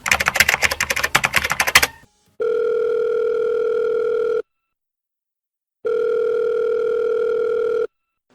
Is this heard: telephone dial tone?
yes